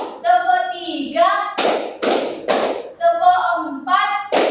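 Sharp hand claps in short counted bursts of one, two and three alternate with a woman's spoken counting in Indonesian, the claps loud and close between her calls.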